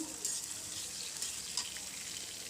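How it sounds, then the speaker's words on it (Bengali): Chopped onions and chilies sizzle in hot oil as they are stirred for a potato and bitter gourd stir-fry, a close, constant crackling hiss with occasional sharper pops. "এর মধ্যে কেটে রাখা পেঁয়াজ আর মরিচগুলো দিয়ে নিলাম এগুলো একটু নেড়ে চেড়ে নেব আমি"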